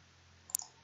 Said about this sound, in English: Maybe if you would stop clicking the damn mouse.